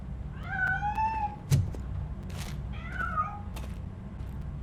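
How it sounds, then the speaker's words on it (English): A cat meows twice in Robocop: Rogue City, each a rising, wavering cry, with a sharp knock and soft rustles between them over a low steady hum. "That cat must be hiding inside."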